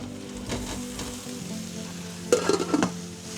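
Potatoes dropped into a hot frying pan sizzle in a steady close hiss, with a quick burst of clattering and scraping near the end as the pieces are spread out.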